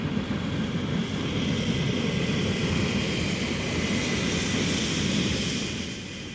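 A Messerschmitt Me 262 jet fighter flies past with a loud, steady, roaring jet drone that holds for several seconds and then eases slightly at the end, with no voices.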